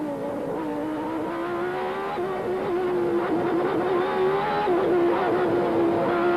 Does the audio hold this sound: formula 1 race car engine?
yes